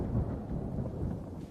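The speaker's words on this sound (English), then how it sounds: "Heavy thunderstorm broke out, and we went inside, out of the rain." Heavy thunderstorm thunder, a deep continuous low rumble that rolls steadily and evenly through the whole short stretch, with no voices over it.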